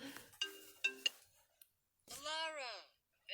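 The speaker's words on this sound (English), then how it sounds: "this is like the iPhone marimba," A few short, bright mallet-like notes from the iPhone marimba ringtone ring out in quick succession, followed by a brief spoken voice.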